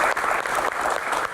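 Steady applause from a studio audience of students and viewers at the close of an Indonesian talk show, dense and continuous, heard alone without speech.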